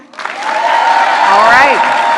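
An audience at a business conference claps and cheers in a loud, continuous burst of applause, with a voice rising over the crowd partway through.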